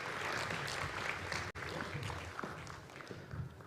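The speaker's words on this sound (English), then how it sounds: "Another round of applause." At a national industrial policy launch event, an audience applauds in a steady, fairly faint wash of clapping heard from a distance, with a brief dropout partway through.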